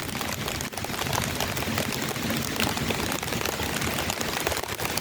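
Steady rain falling outdoors on a pepper-picking plot, a dense, even hiss that stays loud and constant throughout with no other sounds or voices.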